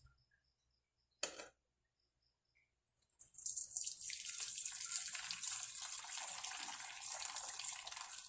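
Water poured and drained off tapa meat in a home kitchen, a steady, close hissing stream that runs continuously after a brief clatter and a pause.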